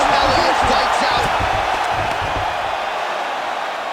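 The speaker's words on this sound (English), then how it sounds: "Crowd pops as Elliot fights out." A UFC fight video game crowd roars in a broad, sustained wash of cheering that slowly fades over a few seconds, with a commentator talking over the start.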